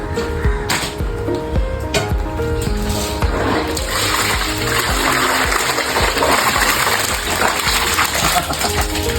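Freshly caught pearl spot fish are washed in water, giving continuous splashing and sloshing with small clinks, close and fairly loud, with no talk.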